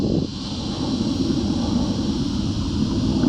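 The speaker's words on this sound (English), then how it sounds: "Oh my god, an airplane." An airplane flies overhead, sounding as a steady, broad roar with wind-like hiss that holds level and fairly loud throughout, with no talking.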